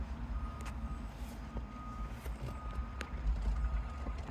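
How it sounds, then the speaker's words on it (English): A big bulldozer pushing dirt near a shopping mall: a low, steady engine rumble runs throughout, with a distinct repeating reversing beep over it and no speech. "See it pushing? Hmm? Big old bulldozer."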